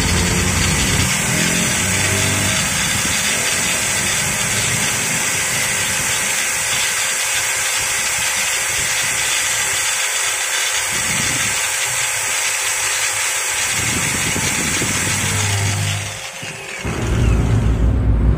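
A Fisch TG 8100 angle grinder runs steadily after its power cable was repaired, a loud continuous broadband whine with a slight dip in speed near the end before spinning back up.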